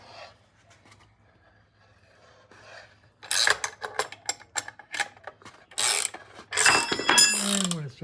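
Wrench work pulling the rubber bumper shock absorber unit out of a vintage British motorcycle gives a run of close metallic clicks, ratchet-like clatter and scraping after a quiet start, with the part rattling as it comes free.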